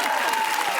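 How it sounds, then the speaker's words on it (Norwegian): Studio audience applause for Kalle Klovn on a Norwegian talk show, a brief, loud, dense burst of clapping filling the room. "Du kan ha ekstra applaus for Kalle Klovn"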